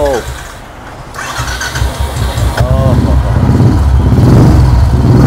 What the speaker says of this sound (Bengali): ইঞ্জিন বলবো একবার দেখিয়ে দিই, একদম কোম্পানি সিল প্যাক ইঞ্জিন আছে। আর সবথেকে ওটা প্রত্যেকটা বিট পুরো ক্লিয়ার। আমি একটু স্টার্ট করে আওয়াজ শোনায়